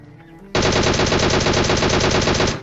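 Sustained automatic gunfire in a battle royale mobile game, a loud, rapid and continuous burst of shots lasting about two seconds, close up after a brief quieter lead-in.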